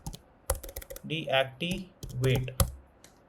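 Quick keystrokes on a computer keyboard while a command is entered, a handful of sharp close taps and clicks clustered in bursts, with a voice speaking over them.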